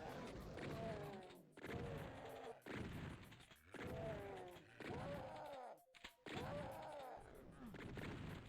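Rocket launcher fire in the game Doom: a series of loud, booming blasts with rumbling tails, roughly every second or so, filling the scene with dense, explosive noise.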